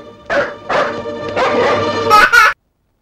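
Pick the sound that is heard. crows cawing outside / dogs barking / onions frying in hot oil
dogs barking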